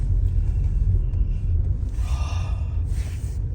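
Steady low road rumble heard from inside a car while driving through the streets of Wilkes-Barre, continuous and fairly loud with faint higher hiss and a couple of brief soft bumps.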